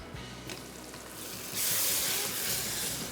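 Ingredients are stirred into hot mustard oil in a pan, giving a steady loud sizzle with scraping stir sounds that grows hissier partway through, with no voices.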